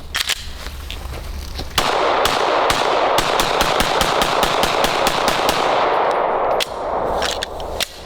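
A Glock pistol built from a Glock 47 slide on a Glock 19 frame fires a rapid string of sharp, loud shots at close range, with a couple of isolated shots before and after the main burst.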